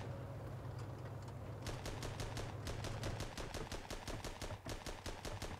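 Cannon and gunfire inside the WWI tank game Armored Battle Crew: a dense run of sharp, rapid reports sets in partway through and repeats in a steady rattling rhythm over a low engine rumble, loud and close.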